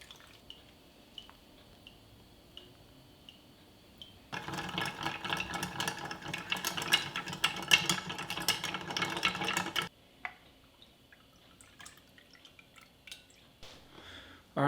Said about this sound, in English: And then I just poured it over the coffee grounds.